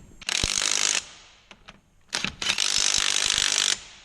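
Craftsman impact wrench tightening wheel nuts after a tire failure, two loud close rattling bursts of hammering, the first about a second and the second over a second long, with short clicks between them.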